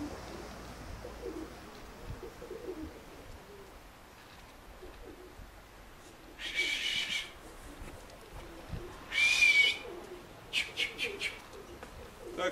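Pigeons at a pigeon fancier's loft in a Russian village, soft cooing and bird calls in quiet outdoor air, with a few louder bursts of calls and flutter later on.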